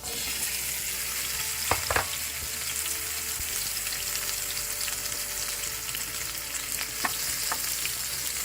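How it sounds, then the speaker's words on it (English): Microwaved potatoes fry in a small pan with a continuous, close sizzle, broken by a few sharp scraping stirs early on and again near the end, with no talking. "We're going to try and fry our potatoes the rest of the way."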